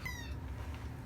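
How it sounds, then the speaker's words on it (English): A cat's meow played back through a computer speaker indoors: one short, tonal, slightly tinny cry at the start, then low room hum. "Listen to the kitty."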